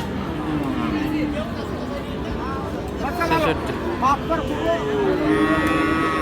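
Cattle low repeatedly amid the crowd noise of the Raniganj cattle market, where cross-bred Friesian bull calves are sold; several drawn-out moos rise over steady babble and nearby talk.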